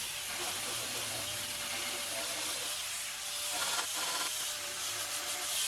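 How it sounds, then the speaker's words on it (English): Old paint is scuffed off a rusty metal go-kart frame with a continuous abrasive rubbing hiss that swells briefly near the end, close and fairly loud, with no talk. "You don't need to take off all of the paint, just enough to scuff it up and take out all the big dents and chips."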